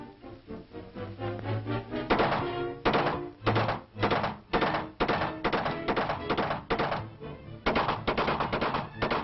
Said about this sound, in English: The rifle range at Bureau headquarters in Washington, and the targets might be gangsters. Intermittent firing.